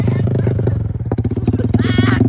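A motorcycle engine is revved during a tuning test, a loud, close, pulsing exhaust burble that rises and falls in quick throttle blips, with a voice speaking over it.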